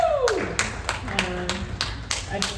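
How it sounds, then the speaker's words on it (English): A few people clap at a community meeting, sharp separate claps in an irregular rhythm close by, with a voice sliding down at the start. "I know you didn't hear the applause for the earlier folks, but I think this was the most enthusiastic."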